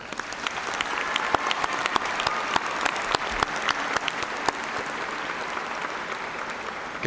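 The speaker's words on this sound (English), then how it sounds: "CBT Distinguished Senior, Miss Abby Sanders, a big round of applause." An audience at a fall university commencement ceremony gives a sustained round of applause, with dense, steady clapping that stays loud and continuous throughout.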